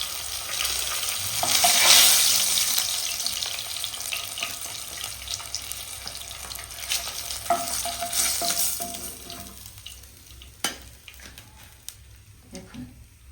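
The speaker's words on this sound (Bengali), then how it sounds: "কত সুন্দর করে মাছটা আমি ভেজে নিয়েছি।" Bhola fish fries in oil in a pan, a close, steady sizzle that swells early and then settles, punctuated by scattered clinks and scrapes of a utensil.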